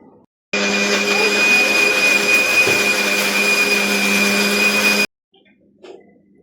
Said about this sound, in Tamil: லேசாக தண்ணி விட்டு நான் வந்து பிளெண்ட் பண்ணிவிட்டு உங்கள்கிட்ட